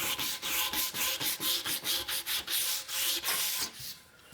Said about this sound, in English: Just starting back with 180 grit sandpaper.